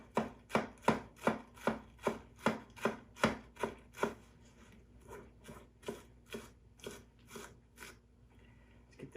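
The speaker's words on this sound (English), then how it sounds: "Let's go ahead and chop up some lettuce" A knife chops through lettuce on a board in a quick steady rhythm, about fifteen crisp close strokes, the later ones softer and spaced more loosely, with no talking.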